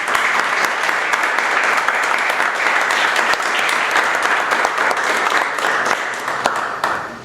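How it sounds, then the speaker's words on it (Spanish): A year-end masterclass audience breaks into strong, sustained applause, many hands clapping loudly and evenly before the sound begins to thin out near the end. "pido un fuerte aplauso por eso"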